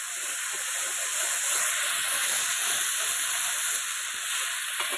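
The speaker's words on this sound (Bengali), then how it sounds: "আদা বাটাটা দিয়ে দিলাম" Ginger paste frying in a hot pan, a loud, continuous sizzle and hiss that stays even from start to finish with no talking.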